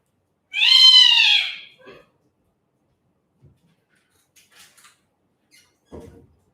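Pet cat giving one clear, loud drawn-out meow, followed by a few faint clicks, rustles and small thumps nearby.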